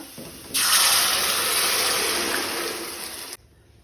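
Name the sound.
water being poured into a pan for Goan fish curry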